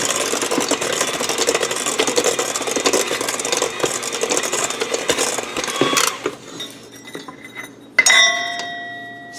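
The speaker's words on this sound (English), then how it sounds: "I'm just going to kind of mix all this together now" Oatmeal cake batter being mixed in a bowl, a busy steady scraping and clinking of utensil against bowl for about six seconds, then quieter with a few sharp clinks near the end.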